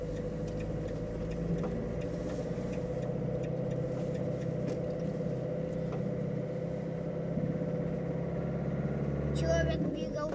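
A car drives along a highway on its way to a repair shop to have a front brake caliper checked. Its engine hums steadily at low pitch from inside the cabin, with a faint brief sound near the end.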